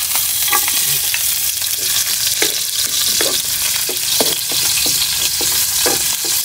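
Onion and garlic sauté in hot oil with a continuous sizzle. A spatula stirs them in irregular scraping strokes, close and fairly loud, with no talking.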